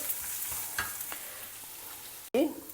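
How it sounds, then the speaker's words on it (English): Chopped ginger and green chillies sauté in a pan with a soft, steady sizzle and occasional stirring scrapes, ending in a sharp utensil clank. "Saute them also together with it till the raw smell disappears and the ginger and green chillies both are well fried."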